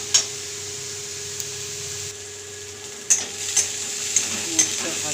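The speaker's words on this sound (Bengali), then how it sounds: "পেঁয়াজটা ভাজা হচ্ছে, এর মধ্যে দিয়ে দেবে একটা লঙ্কা ফাটিয়ে, তারপর ভেজে নেবে এর সঙ্গে।" Onion fries in a pan with a constant moderate sizzle, while a spoon scrapes and taps the pan in several sharp strokes, mostly in the latter half, with no one speaking.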